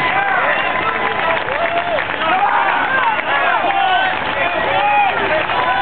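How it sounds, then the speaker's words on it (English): Crowd applause and cheering at a strongman competition truck pull with a 44,000-pound truck, loud and continuous, mixed with shouting voices and babble over the whole stretch. "Give him a round of applause."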